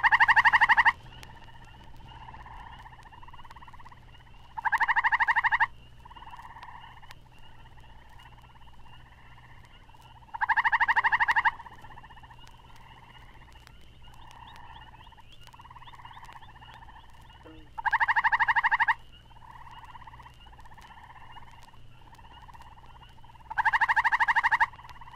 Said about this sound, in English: a common tree toad gives his much louder trill.